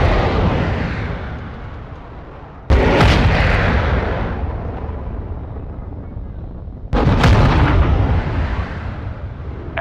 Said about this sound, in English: Missile out.